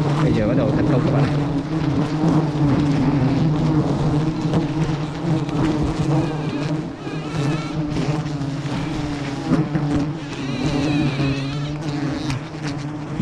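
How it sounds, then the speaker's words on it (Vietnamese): A swarm of giant honey bees (ong khoái) drones in a dense, continuous buzz while defending a wild hive being harvested for honey on Núi Chì mountain in Tánh Linh, Bình Thuận, close and loud throughout. "Ong bắt đầu tấn công rồi."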